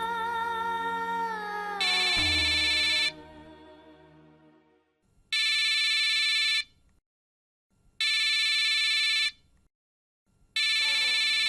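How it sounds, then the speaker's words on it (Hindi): A telephone rings in repeated electronic bursts, loud and close, after a sustained musical tone fades out; silent gaps separate the rings. "जय का फोन"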